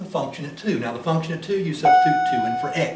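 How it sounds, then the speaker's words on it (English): A bell rings with a steady sustained tone through the last second, under a lecturer's continuing speech about a math function. "So you can hear the bell going off."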